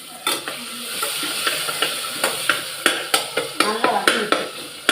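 Curry leaves are stirred and sautéed in a pan, with a steady sizzle of frying under repeated sharp scraping and clinking strokes of the spoon against the metal, loud and close.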